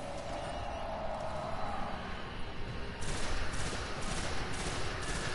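Gunfire in the video game Destiny: a dense, continuous rattle of shots that grows louder and more forceful about halfway through, heard up close with no speech.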